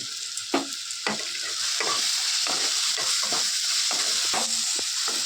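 Turmeric, cumin, chilli powder and salt frying in a hot pan are stirred for a Bengali lote fish dish, with repeated scraping strokes over a steady, close sizzle.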